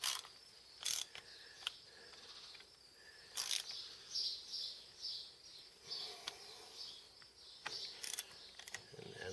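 Ratchet wrench snugging up bolts on a Farmall 560 diesel tractor, several short bursts of clicking at irregular intervals, close and fairly faint over quiet background with insect chirps.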